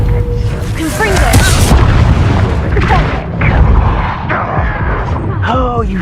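A Confringo explosion spell is cast in a Harry Potter video game: deep booming blasts and rumbling impacts layered over busy game effects, continuous and loud throughout.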